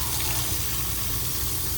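Water runs steadily from the kitchen sink faucet of a new 2024 Forest River Wildwood FSX 266BHLE travel trailer, a continuous close hiss and splash with no talk.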